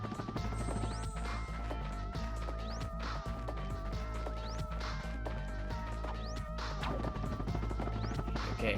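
Repeated crashing smashes as platforms are blown up by Drek in the platformer Ratchet and Clank, loud impacts and debris scattered over a continuous dense game soundtrack.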